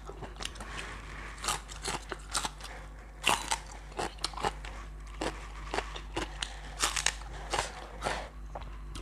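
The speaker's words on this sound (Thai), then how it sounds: "เนื้อนะมันก็มีความเหนียวเนาะต้องชิ้นเล็กๆชิ้นใหญ่มันเคี้ยวลำบาก" Tough beef chewed close to the mic during a Thai eating show featuring jue beef, with irregular crunchy bites and wet mastication sounds repeating steadily and no talking.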